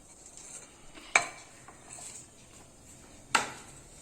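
Chopped onions being mixed into ground lentil batter for Kerala-style parippuvada, a soft wet stirring with two sharp clinks of a utensil against a bowl, close and quiet.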